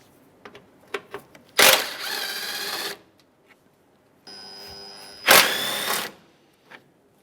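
Two short bursts of a power tool whirring as 10mm bolts come out of an Acura MDX bumper, each about a second long, separated by light clicks and a quieter mechanical hum.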